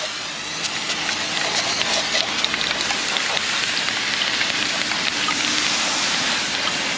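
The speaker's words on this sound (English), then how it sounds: "I'm gonna hose it down with some lubricant." Lubricant sprayed onto LS engine parts during a rebuild, producing a steady, loud, close hiss with faint spattering and no pauses.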